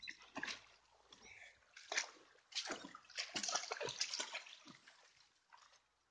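Golden retriever Maru splashes in shallow stream water on a valley outing, with bursts of sloshing and splattering near at hand, some louder surges and brief pauses between them.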